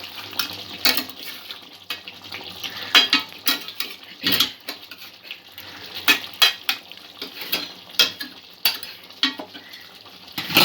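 A spoon stirs prawn korma with cauliflower gravy in a pan, scraping and clinking against the metal in an irregular, fairly loud rhythm over a faint simmer, with no talking.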